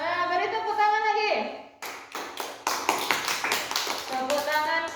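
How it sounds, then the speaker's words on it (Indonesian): Schoolchildren in a classroom clap hands together in a quick burst of overlapping claps after a voice, with voices around the clapping. "beri tepuk tangan lagi"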